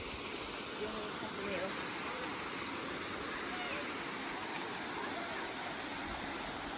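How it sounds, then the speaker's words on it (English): Forsakar waterfall, a steady broadband rush of falling water, constant and fairly loud throughout, with people talking faintly over it. "There's the waterfall."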